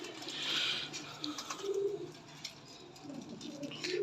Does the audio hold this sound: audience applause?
no